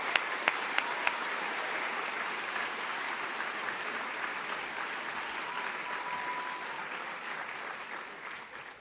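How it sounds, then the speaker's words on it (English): An audience at the 2013 Thomas Henry Huxley Award ceremony gives a round of applause for faculty and staff: steady, dense clapping that holds for about eight seconds and then starts to taper off. "Can we give them a round of applause?"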